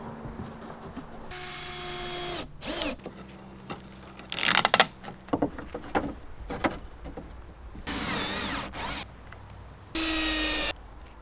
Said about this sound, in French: Pour finir, scie la vitre et fixe-la dans le cadre.